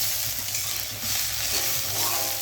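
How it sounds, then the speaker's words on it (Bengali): Malabar spinach seeds and small potatoes frying in a pan with crab give a steady, close sizzle with soft stirring scrapes, heard alone without any talk. "পুঁই শাকের বিচি দিয়ে আর ছোট আলু দিয়ে ভাজা করছি"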